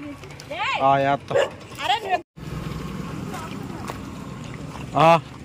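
Street dogs scuffle with sharp yelps, barks and whimpers in quick bursts, close by, then a lull of scrappy background noise before one more loud yelp; a person talks at points.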